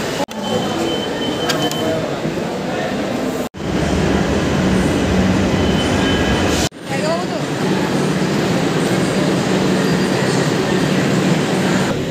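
A metro train from Dum Dum rumbles along steadily from inside the carriage, with rail noise and faint squeals, briefly interrupted by two short cuts; no clear talk.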